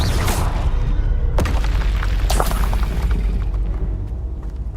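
A Confringo fire spell blast in Hogwarts Legacy, a loud booming explosion with crackling, shattering debris and a second burst shortly after, fading out over rumble.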